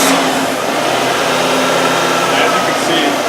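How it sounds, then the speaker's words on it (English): Car engine cold-starting and settling into a steady idle during an oil pressure test, a loud continuous mechanical hum with a faint whine, heard alone without talk. "the next thing that we're going to do is we're going to turn this engine on."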